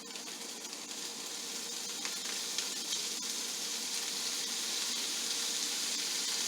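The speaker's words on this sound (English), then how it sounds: "we're going to turn the heat up and add our beef straight into this" Beef sizzling as it is added to a hot pan for beef and broccoli, a steady, loud, bright frying hiss that builds slightly and carries on without talk.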